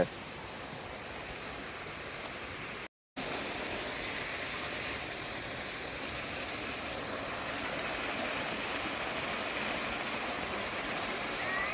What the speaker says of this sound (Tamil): அழகான இந்த சின்ன நீரோடை சத்தத்தை பார்த்துக்கிட்டே